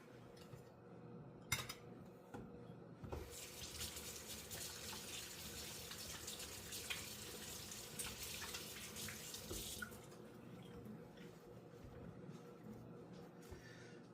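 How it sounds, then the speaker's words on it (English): Hands being washed under a running kitchen tap, a steady rush of water lasting several seconds at moderate distance with faint clinks before and after. "let me wash my hands real quick"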